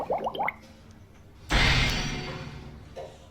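A quick run of four rising, watery bloops from the video game Neverwinter, close and fairly loud, followed by a longer broad splashing wash of water that slowly fades.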